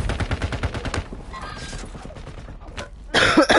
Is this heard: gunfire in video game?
yes